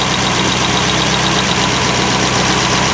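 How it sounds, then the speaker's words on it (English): A 1972 Vega's engine, with a ported intake and exhaust, runs at a steady idle, a loud, even drone filling the whole moment without pause or voices. "Here's the motor of the Vega."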